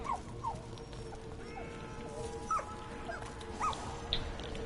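A dog whimpers and yips in a series of short, high whines spread across several seconds over a steady background drone in the zombies map Der Eisendrache from Black Ops III.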